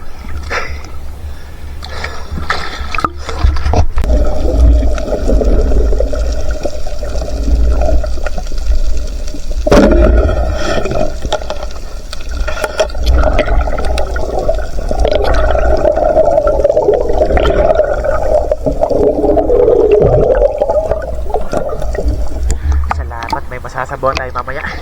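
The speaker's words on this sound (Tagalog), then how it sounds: "Lalaki na yung alon." Waves slosh and splash steadily against a small boat amid strong wind rumble, with a voice talking over it.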